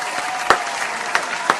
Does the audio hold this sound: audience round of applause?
yes